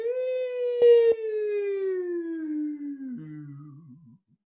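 A voice imitates a siren as a vocal warm-up, one long sustained tone gliding slowly downward, briefly broken by two clicks, then ending in a low wavering wobble that fades out.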